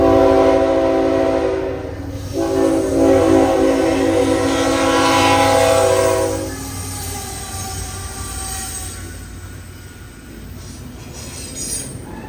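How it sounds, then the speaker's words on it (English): Norfolk Southern hotshot intermodal freight 23G, a daily New Jersey to Chicago train, thunders past an old restored depot with a loud, sustained horn blast over its rumble; the horn cuts out after about six seconds while the train keeps roaring by. "Norfolk Southern Hotshot 23G was calling signals east of us upon crossing the Monongahela River and was thundering by the old restored depot within minutes"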